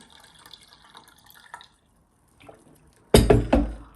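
Filtered water pours briefly into a pot to brew tea, a short close splash after a few faint drips and a moment of quiet.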